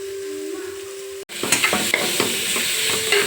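Soya chunks roasting in a pan with pepper powder, a faint steady hum before a sudden cut, then louder sizzling with rhythmic spatula scrapes and stirring clicks, no voices.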